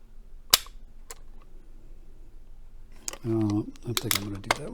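Sharp dry clicks from a Ruger Single Six revolver as its 2-pound trigger is pulled, one loud snap followed by a fainter one, then louder clicks and handling noise mixed with a voice near the end.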